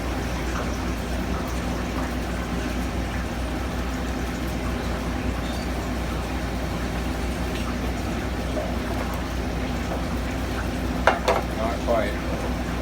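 An omelette fries in a pan with a loud, even sizzle that runs throughout. A few sharp clicks and crackles come near the end.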